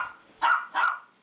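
Two sharp barks ring out in quick succession from dogs at an abandoned-dog shelter on Palgongsan mountain. They are fairly close and clear over quiet surroundings.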